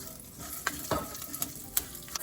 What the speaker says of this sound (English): Fry it till the dhal becomes light brown.